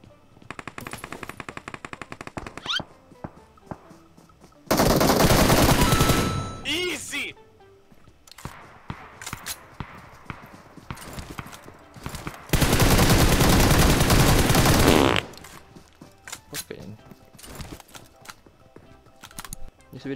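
Gunfire in a shooter video game: two long, loud bursts of sustained automatic fire with scattered single shots and clicks between them.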